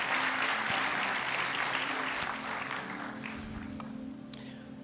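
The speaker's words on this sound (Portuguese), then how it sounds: "Vamos dar uma salva de palmas para a Sueline." Church audience applause fills the hall, dense and steady clapping that slowly thins and fades over several seconds.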